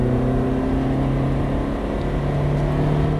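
Ferrari F430 at full throttle on a circuit, a loud, steady high-revving engine roar heard from inside the car, with no talk.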